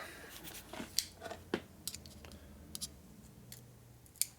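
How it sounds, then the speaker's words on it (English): A worn engine seal on a 1965 Harley-Davidson 74ci panhead being cut off during a motor rebuild: sparse, irregular sharp snips and clicks, close and fairly quiet, spread over a few seconds against a low hum. "That seal didn't break in half, so I gotta cut it off."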